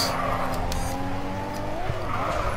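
In the Grid 2 racing video game, a car engine drones steadily while the car slides through a drift, with faint tire scrubbing under a continuous, fairly loud motor hum.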